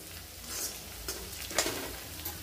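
Green chillies and onions sauté in a pan for a cashew curry, giving a steady soft sizzle with a few scraping stirs and light clicks close by, no voices.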